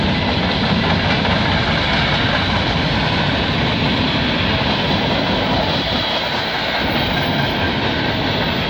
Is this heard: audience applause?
no